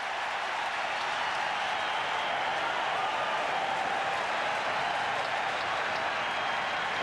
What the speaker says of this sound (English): And the crowd loves that.